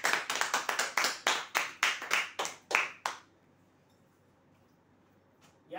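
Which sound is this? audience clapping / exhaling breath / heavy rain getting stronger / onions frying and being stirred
audience clapping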